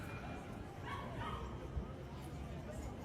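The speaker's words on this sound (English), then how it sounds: "The one barking dog that you hear in the background is like the only loud disturbance" A dog barks and yips in the background of an outdoor livestream, faint and somewhat distant under steady ambient noise and some talk.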